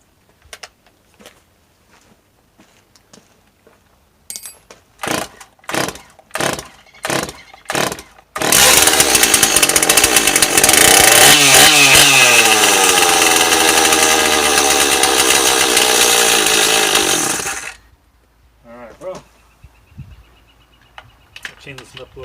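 A barn-find Stihl 026 chainsaw is pulled over with several sharp cord tugs, then fires and runs at a loud, steady high-revving roar for about nine seconds before cutting off, with faint handling noises around it.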